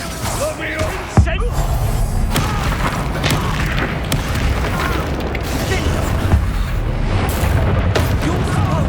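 A Confringo explosion spell from Hogwarts Legacy lands as a sharp boom early on, then sustained loud battle noise rumbles on with speech mixed in.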